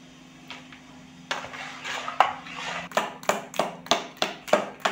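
Batter for teler pithe, Bengali fried rice-flour cakes, is beaten by hand in a bowl after a pinch of baking soda goes in, giving a steady run of sharp rhythmic slaps and clinks that quicken and grow louder, with no talking.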